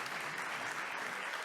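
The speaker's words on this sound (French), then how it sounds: "On peut les applaudir." Conference audience applauding after a panel of four speakers: dense, steady clapping from a crowd filling the whole short stretch at even loudness, with no voices over it.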